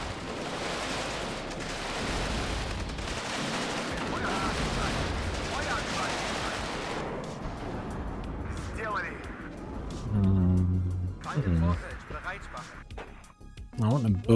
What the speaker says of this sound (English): Some artillery on behind them. Some mortars on there.